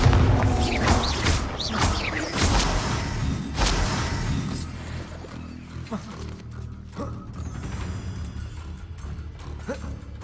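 Bombarda blasting spell impacts in Hogwarts Legacy, several loud booming bursts with creaking debris and rumble, strongest in the first half and fading later, under occasional spoken incantations.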